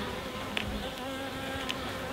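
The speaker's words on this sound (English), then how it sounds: "a lot of bees coming" A steady, dense hum of many honey bees buzzing close at hand at a hive, continuous and even, with a couple of brief higher buzzes passing by.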